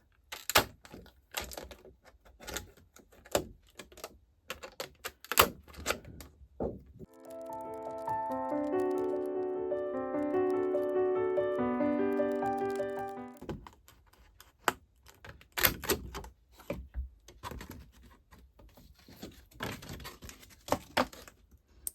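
A paper punch on planner pages for a crochet craft planner gives sharp irregular clicks and cracks, first in a quick burst and then again after a pause, with a long tonal musical passage in between.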